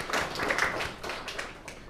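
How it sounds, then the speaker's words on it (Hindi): An audience at an ashram corporate event breaks into a short burst of clapping, a quick scatter of sharp claps that rises fast and thins out within two seconds. "तालियां हो जाएंगी।"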